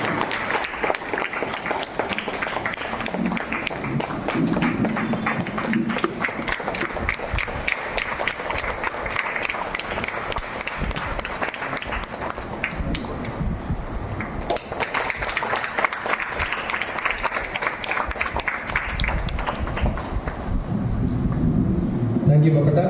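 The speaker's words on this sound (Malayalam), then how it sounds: "നമുക്ക് വലിയൊരു കയ്യടി കൊടുത്ത് ഈ ഇദ്ദേഹത്തെ ആദരിക്കാം." Sustained applause from an audience at a Senior Chamber International family gathering honouring artists on stage, a dense rattle of many hands clapping continuously throughout, swelling slightly toward the end.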